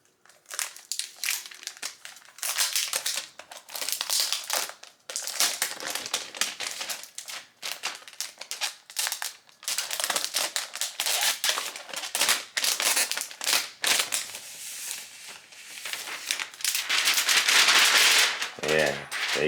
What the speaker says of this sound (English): let's go ahead and take it out the plastic